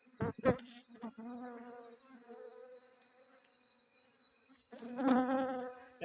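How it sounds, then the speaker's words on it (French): Honeybees buzzing around hive boxes just moved by motorcycle to a new site, a steady, close insect hum with louder swells near the start and end. "Vous voyez, ce sont les abeilles."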